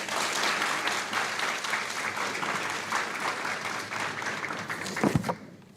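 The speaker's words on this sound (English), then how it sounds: "Please join me in giving our top 10 a round of applause." Audience applause at a middle school eighth grade promotion ceremony honouring the top 10 students, steady dense clapping from a crowd lasting about five seconds before stopping abruptly.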